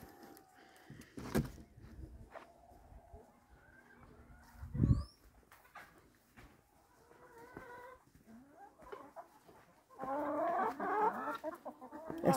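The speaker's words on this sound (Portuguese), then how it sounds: "As galinhas tão eufóricas." Farm chickens cluck and squawk excitedly in a morning farmyard, with scattered close calls and flapping, a sharp thump, then a louder burst of agitated clucking near the end.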